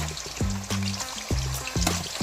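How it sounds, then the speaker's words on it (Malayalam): Chicken pieces half-frying in hot sunflower oil for a curry give off a steady sizzle and crackle, with pitched tonal sounds layered over the frying throughout. "നമുക്ക് ഈ ചിക്കൻ വറുക്കാം. ചിക്കൻ വറുത്തത് സൺഫ്ലവർ ഓയിലാണ് നമ്മൾ ഉപയോഗിക്കുന്നത്."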